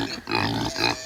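Pigs grunt and oink in two close, loud bursts in a farmyard, with a short gap between them.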